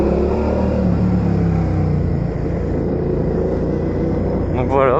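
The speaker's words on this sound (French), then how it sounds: "Mais ce pot, clairement, il fait un son" A motorcycle engine idling and rumbling steadily through its exhaust, close and continuous, with a low throbbing tone throughout.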